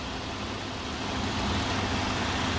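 A 2006 Buick Lucerne CXL idles with its engine bay open, giving a steady, close, loud low hum and broadband whir that holds even and unbroken throughout.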